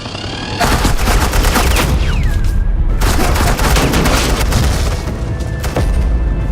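Sustained suppressing gunfire in a Batman game scene, dense rapid bursts of shots and booms filling several seconds, loud and close, with short breaks between volleys.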